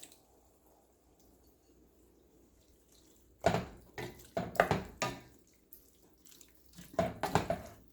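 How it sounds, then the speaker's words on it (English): Liquid and chopped garden tomatoes poured into a pan for a spicy curry, heard as a few wet splashing, squishing bursts after a quiet start. "I'm going to pour the liquid and the chopped tomatoes."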